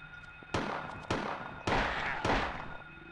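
Four loud, sharp gunshot blasts from a handgun in the survival-horror video game Silent Hill, spaced about half a second apart, each with a short ringing tail over a low game ambience.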